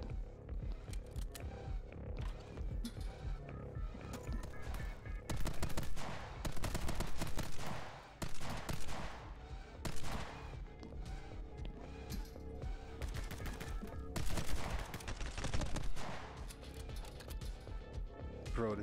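Rapid gunfire in the action game My Friend Pedro, with repeated sharp shots and machine-gun bursts coming loud and close over music, some quick pauses between volleys.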